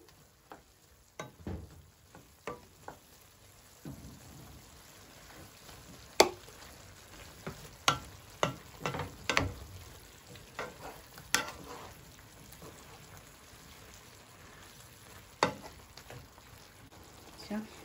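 Mushrooms and vegetables fry in a pan for a chicken and rice dish, with a steady sizzle and repeated sharp clatters and scrapes as they are stirred. Faint speech can be heard now and then.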